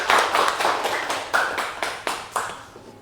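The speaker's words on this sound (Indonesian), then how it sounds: "Beri aplaus ke kelompok 2." A small group of students in a classroom claps together, a run of roughly a dozen crisp, fairly close claps at a quick steady pace that thin out and fade toward the end.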